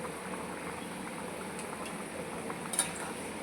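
A thin katla fish curry bubbling softly in a pot, a steady low simmering hiss with a couple of faint clinks near the end, quiet and close, no talking.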